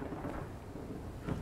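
A thunderstorm with rain in the video game Lunacy, a low steady rumble of thunder rolling under a hiss of rainfall, fairly faint and without voices.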